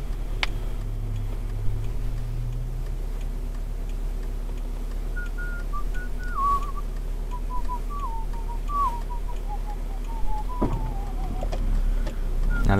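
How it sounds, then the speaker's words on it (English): A person whistles a wandering tune, faint at first then clearer, over a steady low engine rumble inside a moving car with occasional small clicks. "Now that's me whistling to myself in the car."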